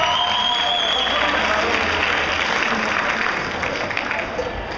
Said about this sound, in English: how about a round of applause for Macuba?